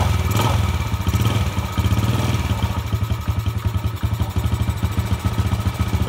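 A motorcycle engine idles steadily just after its carburetor was cleaned, a close, loud, even thumping putter with fast regular pulses throughout and no talking.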